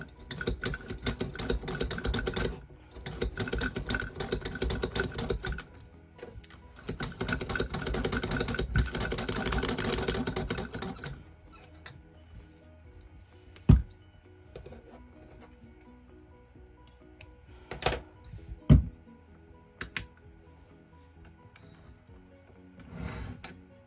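A Singer Sew Handy kids sewing machine stitches through three sheets of paper, giving a rapid, steady mechanical clatter in long bursts for about ten seconds, then quieter handling with a few sharp clicks.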